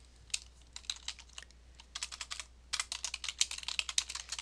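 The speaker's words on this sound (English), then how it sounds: "So I will go ahead and type in the command because it is short." A command being typed on a computer keyboard for an Oracle SQL query, close and crisp, with sparse keystrokes first, then a faster dense run of clicking, no talk.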